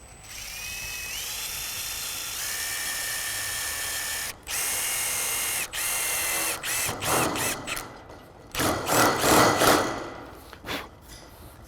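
A power driver whirs and ratchets as screws go in along the ridge of a ShedFast shed's roof sheets, several sustained close motor runs rising and stopping, followed by shorter bursts and clattering clicks near the end.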